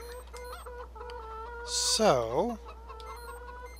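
Chickens in the farming game Farming Simulator 2013 give a loud, brief burst of clucking and squawking, set over steady background game music, with someone talking around it.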